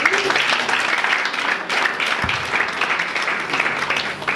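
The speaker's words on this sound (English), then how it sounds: "Clap for the chairman, please." Steady applause from an audience for the chairman at a campaign event against cultism and drug abuse, a dense, even clapping that runs for the whole stretch with a brief dip midway.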